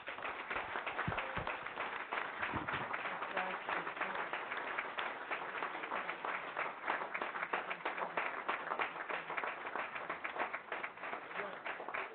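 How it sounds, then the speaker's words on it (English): A city council meeting crowd in Turlock gives veterans a round of applause, a steady, muffled wash of many hands clapping that continues for the whole stretch. "Give them a round of applause."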